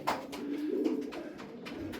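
A pigeon cooing close by, a low rolling murmur swelling in the middle, with faint rustling around it.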